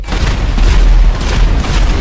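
Loud, sustained booming blast from a Jericho missile strike in the GTA 5 video game, a dense low rumble that keeps rolling for the full two seconds with no pause.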